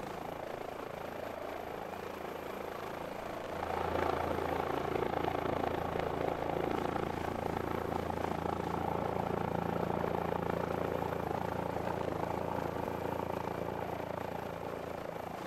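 A helicopter's steady engine and rotor drone from a flight simulator game hums continuously, rising slightly in loudness partway through as the aircraft pushes power before crashing, with no talk over it.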